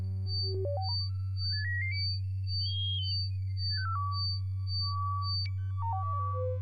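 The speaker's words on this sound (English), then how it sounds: "So if I turn that up, you can hear the harmonics move faster." A modular synthesizer's harmonic tone glides steadily upward, peaks, then slides back down before settling, with a quiet repeating high blip and a constant low drone underneath; no voices.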